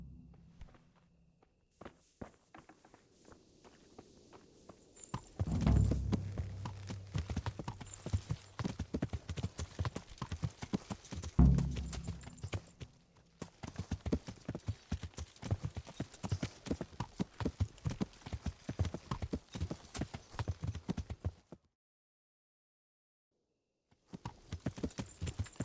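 Horse hooves clip-clop steadily in Kingdom Come: Deliverance, a continuous walking rhythm fairly close and loud, with heavier thuds and low rumbles near the start, a brief silent gap near the end, then the hoofbeats resume.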